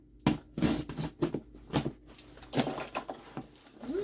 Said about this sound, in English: I don't have any scissors, but I got a big set of keys here.